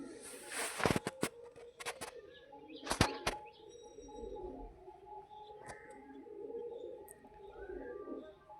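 A Lalshira pigeon gives a few low coos nearby, mixed with sharp wing flaps and clatter, while other birds chirp faintly in the background.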